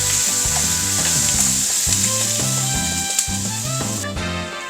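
Onions sizzle and crackle loudly in a pan while a utensil scrapes and stirs them in a steady, repeated rhythm.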